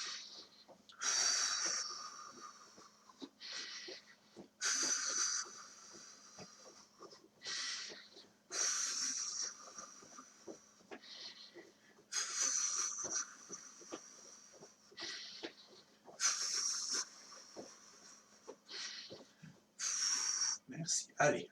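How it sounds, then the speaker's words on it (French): Strong, forceful breathing during a judo warm-up exercise, repeated bursts of heavy exhalation in a steady rhythm every few seconds, fairly close and moderately loud against a quiet room. "N'ayez pas peur de respirer fort."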